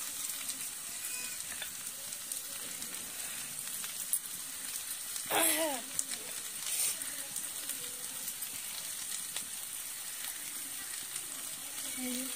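Food frying in a pan for a tomato dish, a steady soft sizzle throughout, with a brief stirring scrape and someone talking over it.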